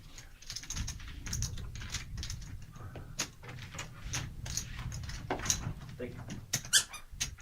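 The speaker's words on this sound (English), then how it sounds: "Got to make sure he gets that duck squeak." Squeaks of a rubber duck toy at a poker table, short high chirps scattered among busy keyboard-like clicks and room noise, with talking throughout.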